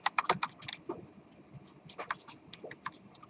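Close computer keyboard typing comes in uneven bursts of clicky keystrokes with short pauses between them, and no one speaks over it.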